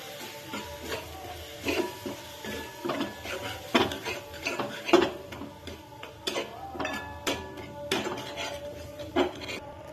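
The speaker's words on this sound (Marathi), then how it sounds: "आता आपण त्यात मसाले टाकूया, छान मिक्स करून घेऊया" A spoon stirs spices into cooked tomatoes in a pan, giving irregular close metallic scrapes and clinks against the pan with no talk.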